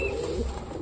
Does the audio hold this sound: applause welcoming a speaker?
no